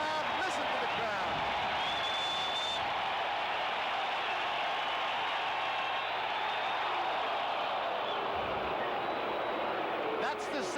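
A stadium crowd roars at the 1978 World Series between the New York Yankees and Los Angeles Dodgers, a dense, sustained far-off wall of cheering and noise filling the whole stretch with a short dip near the end.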